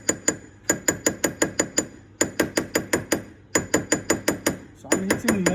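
A hammer strikes a metal wedding band on a mandrel to size it, making bright, ringing metallic taps in fast even bursts of about five to seven blows, separated by brief pauses, loud and close.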